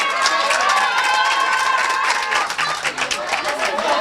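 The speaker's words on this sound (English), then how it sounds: "A round of applause for Yunus and Jabang," An audience at an inter-school debate competition applauds the teams with loud, dense clapping and some crowd noise, sustained and close, dipping briefly before swelling again.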